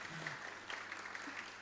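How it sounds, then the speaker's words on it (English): A church congregation claps together in a short burst of applause, heard fairly faintly with a low hum beneath and some voices mixed in. "And give yourselves a round of applause."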